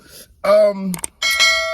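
A short notification bell sound effect rings out as a couple of bright, clear chime tones with ringing overtones, loud and close, separated by a brief pause.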